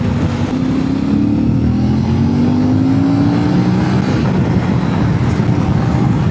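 A CFMOTO 450MT motorcycle with stock exhaust drones loudly and steadily up close, its pitch rising and falling slightly as it revs, with a rough, mechanical exhaust note throughout.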